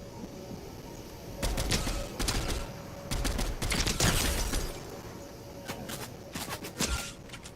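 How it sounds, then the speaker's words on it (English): Bursts of rapid gunfire in a Fortnite match, clustered volleys of shots with short gaps between them, moderately loud and with no talking. "Why is this guy shooting at me?"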